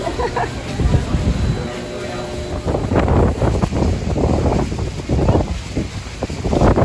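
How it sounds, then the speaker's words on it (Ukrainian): Strong wind buffets the microphone at Niagara Falls with a constant low roar, rising and falling in gusts, while someone talks over it. "Ой, тут такий вітер сильний."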